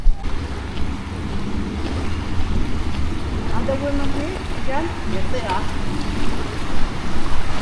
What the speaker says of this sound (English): there's a lot of water in that there river